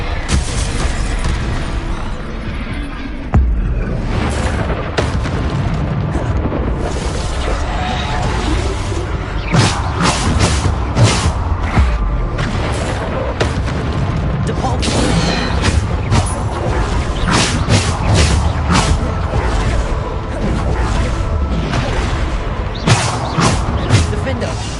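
Bombarda spell explosions in the Hogwarts Legacy video game go off again and again, punchy booms and crashes scattered through a dense, busy combat soundtrack, with voices heard amid the action.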